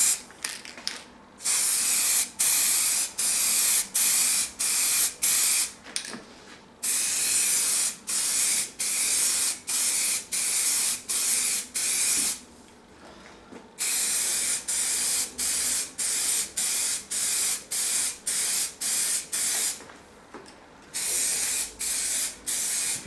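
Short, loud bursts of aerosol spray paint hiss over and over as a camouflage pattern is sprayed onto an airgun, each burst separated by brief pauses, close and alone without speech.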